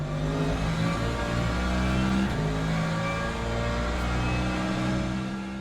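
Hypercar engine in a racing video game at Imola, a loud steady high-revving drone with layered harmonic whine that swells slightly as it passes close by, running continuously with no talk.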